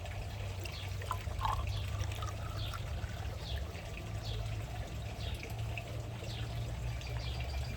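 Water trickles and pours steadily into a large pH test tube while pool water is being tested, a continuous faint liquid sound with light splashes and no talking.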